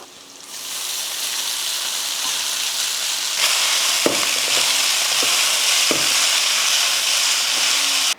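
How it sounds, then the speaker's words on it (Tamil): Roasted semiya vermicelli is tipped into a hot pan for upma and stirred. A steady sizzle carries throughout, with a few sharp scraping knocks of the spoon against the pan. "இப்போ நம்ம ரெடி பண்ணி வச்சுருக்க சேமியாவை இதில் சேர்த்துடலாம்"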